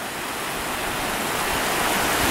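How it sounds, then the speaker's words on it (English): Steady broadband wash of surf, a continuous roaring rush that slowly swells louder, with no voices over it. "All these waves coming in."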